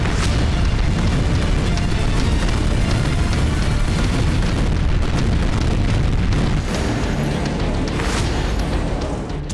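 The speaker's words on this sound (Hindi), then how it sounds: "चंद सेकंड में कई जगह धमाके, रात के अंधेरे में बारूदी धमाकों से निकलती आग" Russian rocket strikes hit Bilohorivka near Luhansk at night. A dense, loud roar of blasts rolls on throughout, with repeated sharp booms rising out of the continuous rumble.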